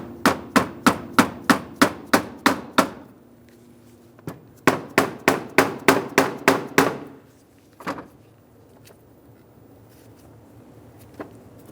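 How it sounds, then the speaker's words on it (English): A soft face hammer taps a socket to drive a valve cover tube seal into a 2003-2008 Honda Pilot engine: two even runs of about eight sharp, ringing knocks each, then a few isolated taps, close and loud. "Use that and a soft face hammer. Get the seal started nice and square and then tap it in."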